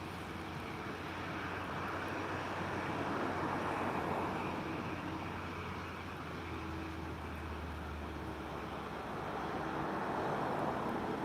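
Airliner landing at Lisbon Airport on a cloudy, windy evening: a broad, steady jet roar swelling and easing over about ten seconds, moderately distant, with wind rumble underneath and no talk.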